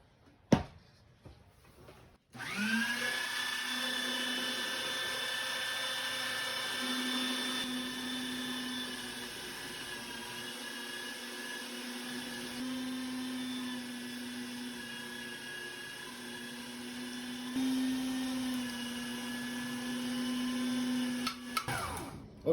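A blender-like motor whirs steadily while a pork butt roast is minced for sausage, a constant close mechanical drone with a high whine that runs for about twenty seconds after a quiet start, then cuts off.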